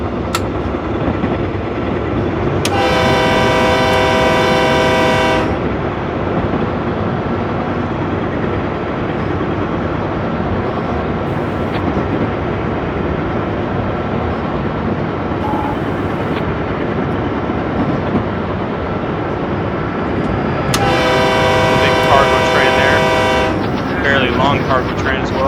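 A train in the Train Simulator 2014 game rumbles steadily toward a station with two long, loud horn blasts near the start and end, while someone talks over the running noise.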